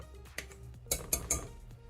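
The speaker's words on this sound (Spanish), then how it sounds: "Seguimos con el fuego lento, aplastando y revolviendo con la cuchara." A spoon scrapes and clinks against a pot while stirring and mashing blueberry jam over low heat, a few short close knocks and scrapes spaced apart with quiet gaps between.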